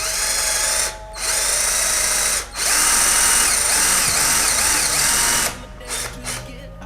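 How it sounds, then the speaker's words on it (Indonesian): A Kova 20V cordless drill, set to torque 18 and its fastest speed, whirs loudly in several bursts with short pauses between them, its pitch wavering under load, with a brief quiet word or two near the end. "Oke, langsung aja kita bor."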